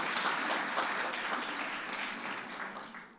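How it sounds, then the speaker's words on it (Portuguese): A church congregation applauds during a worship service, a crowd of clapping hands that swells briefly at first, then holds steady and slowly fades toward the end. "Dá para aplaudir Jesus pela vida da doutora Thalita?"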